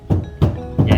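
The front door of a Mazda 8 is knocked on or shut, giving three dull, close thumps spaced evenly across about a second.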